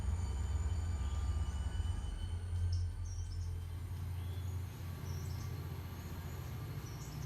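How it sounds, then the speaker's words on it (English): A long train rolling past a forested stretch in the video game Railroader, with a steady, loud low rumble of wheels and cars running throughout, plus faint bird chirps in the background. "That's a long train."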